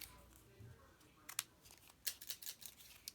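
Scissors trimming cardboard in a craft project, a few quiet, uneven snips clustered toward the end after a near-silent start.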